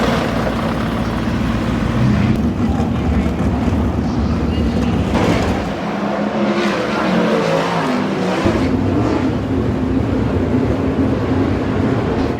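Race car engines warm up on the track at Eldora, a loud, continuous droning roar with rising and falling revs from several cars, steady throughout.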